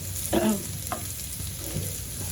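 Food fries in a pan until it turns reddish-brown, making a steady, close sizzle with a few soft stirring scrapes near the start, with no talking.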